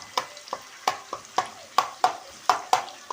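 Rice with onions fries in a pan while a utensil stirs it, giving a soft steady sizzle punctuated by about a dozen sharp, close scraping strokes in quick succession.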